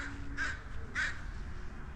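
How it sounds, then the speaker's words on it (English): Two crows caw outdoors, one harsh call followed by a second about half a second later, fairly close and clear over quiet background. "Bye, crows."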